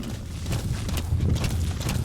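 Horse hooves clip-clopping steadily at close range in the video game Metal Gear Solid V: The Phantom Pain, a continuous rhythmic thudding with no talk over it.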